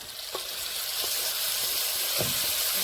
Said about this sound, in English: Alright, now it's the time to add tomatoes, guys. My tomatoes are going in here.